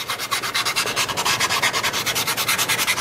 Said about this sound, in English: Let's try a little bit of our sandpaper here and see if we can